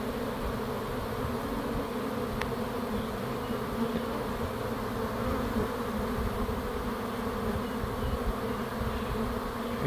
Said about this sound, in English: We should start to see rivers of bees start to flood into there